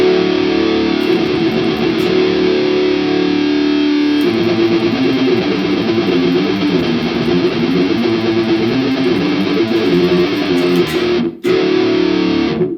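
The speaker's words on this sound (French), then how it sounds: "Et voilà, donc là c'est le son de l'ampli." A heavily distorted electric guitar through a Headrush Prime amp simulator on a 5150 amp model plays continuously, thick and loud with sustained chords, cutting out briefly near the end before resuming.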